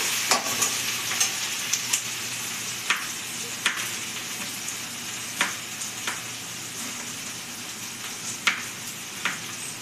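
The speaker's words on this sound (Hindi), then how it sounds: "हल्का सा जब प्याज भुजा जाएगा" Onions fry in a pan for chhole, a continuous sizzle broken by frequent sharp stirring scrapes and clinks of a spoon against the pan, fairly close and clear, with no talking.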